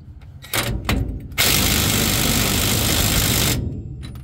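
Impact wrench tightening a pinion nut with a crush sleeve eliminator: a few short hammering bursts, then a sustained two-second rattling run, loud and close.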